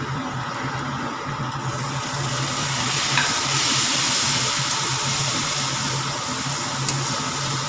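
Chopped tomato hits hot spiced oil in a pan while cooking North Indian arhar dal, setting off a loud, continuous sizzle and hiss that swells slightly and keeps going steadily.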